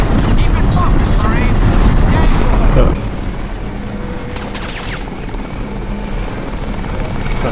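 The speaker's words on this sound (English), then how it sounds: "I don't really like choppers" A helicopter flies in the Crysis video game, its loud, dense rotor thrum and engine roar filling the scene, dropping to a steadier, quieter drone midway with faint rumbling beneath.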